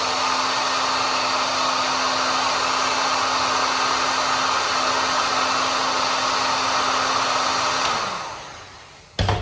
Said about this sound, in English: take my heat gun and heat that piece up